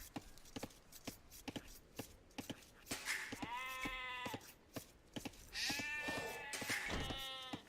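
Sheep bleating in the video game Age of Empires II, with two drawn-out bleats, one mid-clip and one near the end, over a steady run of sharp clicking game and interface sounds.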